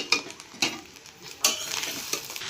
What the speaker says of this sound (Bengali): ধরো একটু নেড়ে নিই, তারপরে আরও চিনি দেবো।